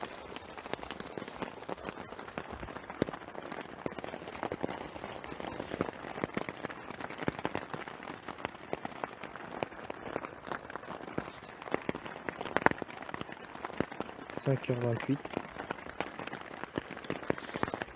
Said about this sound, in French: Ça arrête pas de pleuvoir depuis tout à l'heure.